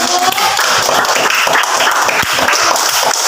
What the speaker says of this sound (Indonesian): Oke, tepuk tangannya dulu.